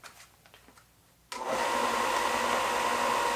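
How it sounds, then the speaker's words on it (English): An electric sander starts abruptly after a quiet opening and runs on as a loud, steady, close whine and rush for the remaining seconds, with no voice over it. "If I turn on the sander, you'll still hear it"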